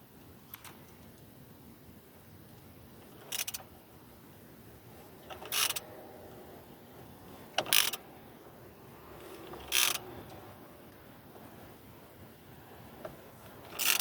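Plastic and metal parts of a Citroën C3 steering wheel airbag assembly being unscrewed counterclockwise: five or six brief clicking ratchet bursts spaced a couple of seconds apart over faint background hiss.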